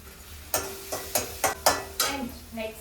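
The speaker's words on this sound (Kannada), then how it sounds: "ಸ್ವಲ್ಪ ಜಿಂಜರ್ ಗಾರ್ಲಿಕ್ ಪೇಸ್ಟನ್ನು ಆ್ಯಡ್ ಮಾಡ್ತಾ ಇದ್ದೀನಿ" Ginger garlic paste hitting hot oil in a pan for cabbage Manchurian, a string of six or seven short sizzling bursts as it is stirred in, close and moderately loud.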